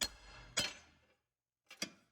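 Pry bar knocking a clamp-held front end part loose on a 2018 Ford Escape: two sharp metallic strikes with ringing decay, then a short silence and a quicker double knock, close and fairly quiet.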